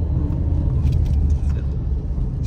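Car on a village road produces a steady low rumble close by, loud and continuous with faint ticking on top and no clear speech.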